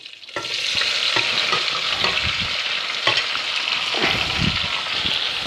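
Chopped, salted onion hits a hot pan beside browned veal and sizzles loudly without a break. Stirring and scraping noises sit on top of the frying.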